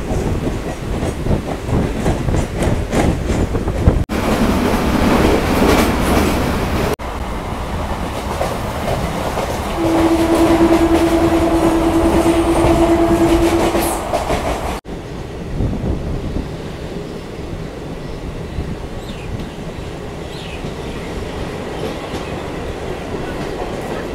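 MEMU train travelling from Kharagpur toward Purulia near Medinipur, with a steady rolling rumble, rhythmic wheel clatter and wind buffeting throughout, plus a sustained tonal horn-like whine midway and a change in texture near the end.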